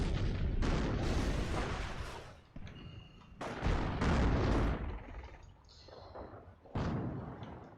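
Video game battle with heavy artillery and gunfire: repeated deep booming blasts and rumbling impacts, loud and close, surging and fading in waves.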